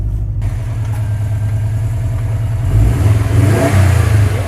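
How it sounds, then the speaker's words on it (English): A 2018 Subaru WRX STI with the STI Performance exhaust revs up with a deep, throaty exhaust rumble, growing louder and more aggressive toward the end. "show you this beautiful, beautiful sound, because this does have the STI Performance exhaust"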